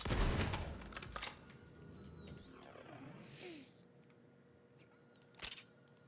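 Gunfire from a shooting video game, with a loud volley of shots at the start, a few more scattered cracks, a sweeping whoosh in between and one last sharp shot near the end.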